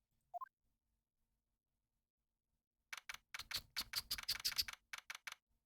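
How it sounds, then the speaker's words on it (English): Typewriter-style text sound effect from the video game Ace Attorney 2, a rapid burst of crisp clicking ticks that starts after a long silence and runs in quick, slightly irregular pulses, close and clear. "that's what my typewriter sounds like"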